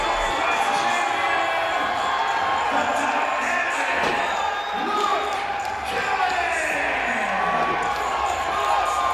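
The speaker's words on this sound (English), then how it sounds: "This entire crowd is on its feet." A packed wrestling arena crowd roars and cheers on its feet after a ladder match title win, a loud, steady wall of cheering with a commentator talking over it.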